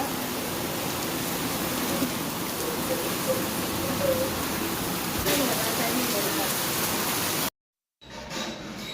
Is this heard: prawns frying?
no